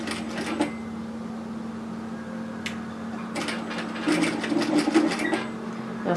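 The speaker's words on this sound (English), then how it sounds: "I'm going to stitch almost on top of the gathering line" A sewing machine stitches gathers in place on a tiered dress, a steady close mechanical whir with a low motor hum that runs throughout and grows slightly busier toward the end.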